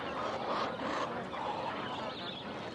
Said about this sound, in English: When they do call, it's a relatively quiet, rasping quack.